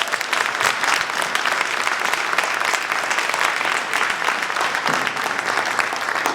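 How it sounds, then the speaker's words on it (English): Sustained audience applause fills an award ceremony hall, dense and steady throughout with a slight crowd murmur underneath. "give them another round of applause, please"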